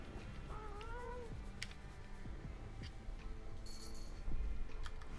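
A gray and white cat meows once, a short rising-falling cry close by, over a soft background hum with scattered faint ticks.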